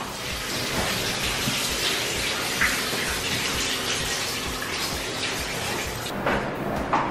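Water runs steadily from a tap in an empty condo unit, a continuous broadband rush that stays fairly loud and even for the whole stretch, with no one talking.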